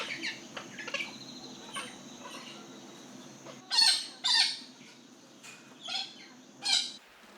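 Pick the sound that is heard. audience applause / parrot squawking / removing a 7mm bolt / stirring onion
parrot squawking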